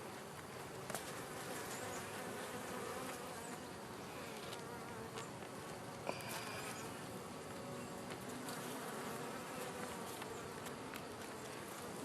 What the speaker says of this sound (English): There's a lot of the bees.